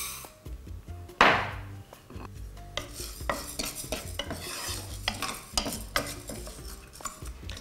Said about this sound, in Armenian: Հարկավոր է կացայի մեջ բովել հնդկաձավարը։